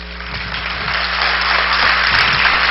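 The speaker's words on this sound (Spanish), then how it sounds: "muchas gracias por los aplausos" An audience applauds at a talk about arts patronage, with steady, dense clapping that holds loud throughout and swells slightly toward the end; no one speaks.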